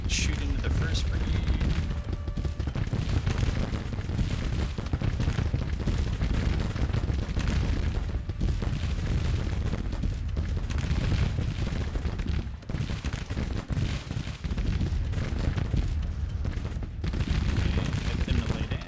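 Civil War musket volleys ring out in Grand Tactician as skirmishers fire into a brigade, giving a dense, continuous crackle of distant gunfire and rumbling shots. Someone talks over the battle.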